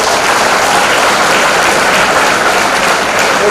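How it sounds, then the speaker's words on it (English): Loud, dense applause from a large audience at a student accounting conference follows a technical presentation, a steady, close roar of clapping sustained at full level throughout. "give a good round of applause for the presentation"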